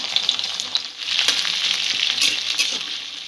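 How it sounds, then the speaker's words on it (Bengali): Okra fries lightly in oil over a medium-low gas flame, a steady close hiss and sizzle with a few soft scraping stirs and no voices. "প্রথমে ঢ্যাঁড়সটা আমি একটু হালকা করে ভেজে নেব।"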